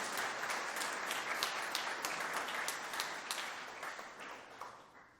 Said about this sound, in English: One more big round of applause, please